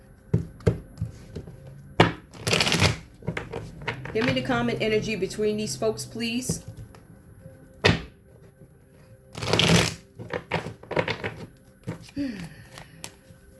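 Tarot cards are shuffled and riffled in short crisp bursts, with quick taps and snaps between them, while a person talks.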